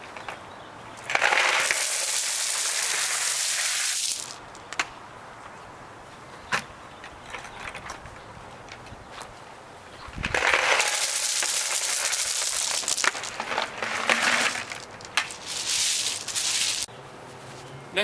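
Loose gravel from a local gravel yard pours and spreads for flagstone steps outdoors, a loud rough crunching rush in two long bursts with a quieter, scraping stretch between them.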